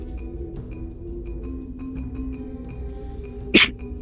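A single short, sharp sneeze near the end, rising over quiet background noise and faint clicks.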